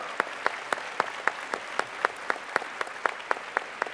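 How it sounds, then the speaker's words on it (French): Audience at the international final of a French dictation contest clapping in a steady, even rhythm, with close individual claps standing out over a softer wash of applause. "On l'applaudit."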